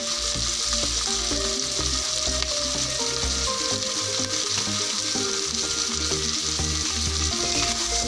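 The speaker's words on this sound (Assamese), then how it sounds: "এইখিনি অলপ আধা ভজা কৰি লৈছোঁ মাংসখিনি।" Pork frying in a pan, the meat being half-fried after salting, with a steady, close sizzle and crackle running throughout, plus occasional stirring scrapes and no voices.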